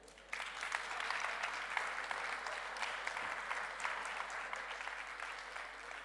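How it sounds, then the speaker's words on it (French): Sustained applause from a conference audience, a dense, even wash of clapping that starts abruptly and continues steadily at moderate volume. "On vous applaudit"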